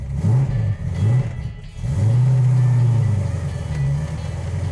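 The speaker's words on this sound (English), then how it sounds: "So far, everything's going real well on our 72 Charger. Seems to be driving around well." A rebuilt 1972 Dodge Charger engine drones steadily while the car drives, loud and close, its low note swelling and dipping with throttle and holding a long steady pull in the middle.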